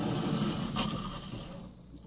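Water rushing back into a whole-house water filter housing after the main supply is reopened, a steady close hiss and gurgle that gradually fades.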